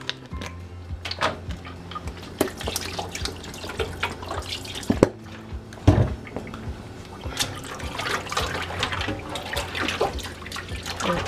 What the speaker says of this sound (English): pour a little of my lemon juice over it.